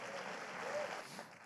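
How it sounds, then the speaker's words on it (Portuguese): Church congregation applauding during a sermon, a steady wash of clapping that holds evenly through the moment at moderate distance, with no voices standing out above it. "Aplauda o Senhor se você crê nisso."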